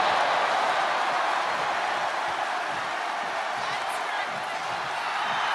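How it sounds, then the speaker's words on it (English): A huge arena crowd roars in the WWE 2K24 wrestling video game during a match between Roman Reigns and Brock Lesnar, a loud, dense, unbroken wall of cheering that fills the whole stretch. "The sound of this crowd is deafening"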